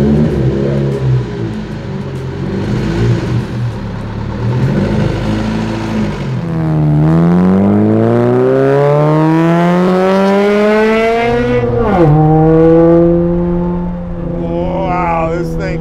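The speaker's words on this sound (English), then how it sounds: "Wow, this thing goes. It sounds so good, John." A 1971 Lotus Europa with a 320 hp engine accelerating hard from inside the car, revs climbing through the gears with a sharp shift, loud and close.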